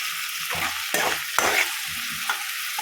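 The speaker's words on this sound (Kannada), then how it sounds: "ಸಣ್ಣಗೆ ಹಚ್ಕೊಂಡಿರೋಂಥ ಒಂದು ಟೊಮೆಟೊ ಹಾಕ್ಕೊಬೇಕು ಅದನ್ನು ಫ್ರೈ ಮಾಡ್ಕೊಳ್ಳಿ" Chopped tomato hitting hot oil in a pan and sizzling while it is stirred, a steady frying hiss broken by louder scraping bursts of the spoon, close by with no talking.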